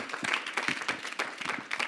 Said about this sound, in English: Let's clap like you mean it, like really clap well.